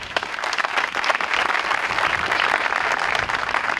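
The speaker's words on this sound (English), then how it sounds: "I think we owe them a round of applause as well" Audience at a library statue dedication ceremony applauds, steady close clapping from a crowd that stays loud and even for several seconds.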